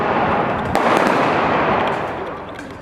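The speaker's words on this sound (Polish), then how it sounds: "rozpoczyna się wymiana ognia" Staged exchange of gunfire during a reenacted Polish Underground ambush on a Nazi dignitary, with a German motorcycle patrol on the street: a dense, loud crackle of shots with one sharp bang standing out, fading slightly toward the end.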